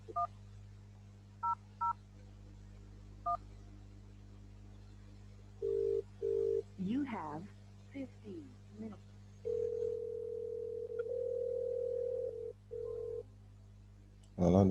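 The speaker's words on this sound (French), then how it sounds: "Voilà le téléphone qui sonne." Test of a VoIP call: a phone line gives short ringback and dial-tone bursts, steady and moderately loud, over a constant low hum, with brief chirpy noises in between.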